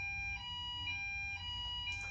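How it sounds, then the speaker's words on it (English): A steady electronic buzzer tone drones on throughout, with faint rhythmic pulses and a low hum beneath it, ending in a brief brighter burst. "that's our buzzer going at the moment"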